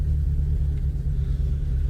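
A 2001 Jeep TJ engine rumbles steadily at low pitch as the vehicle drives along rough back roads, a close, continuous drone with no voices.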